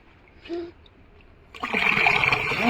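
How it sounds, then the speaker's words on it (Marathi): Water from the village supply, fed from a well by the gram panchayat, rushes into containers on a rainy morning in a Sahyadri hamlet; a quiet pause and a faint knock come first, then a loud, steady gushing pour. "सकाळी आमच्याकडे सात वाजता पाणी येतं"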